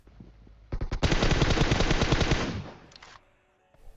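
Automatic gunfire in the PUBG Mobile battle royale game, a loud, close, rapid burst of shots lasting about two seconds, with a few single shots before and after.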